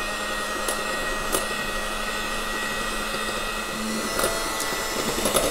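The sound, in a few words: electric mixer whisking egg yolks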